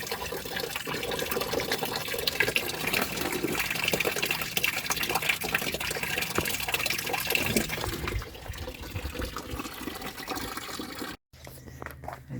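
Water gushes and splashes steadily while the cooling circuit of a BMW E34 520i is flushed, a continuous rushing flow that softens toward the end before a brief break.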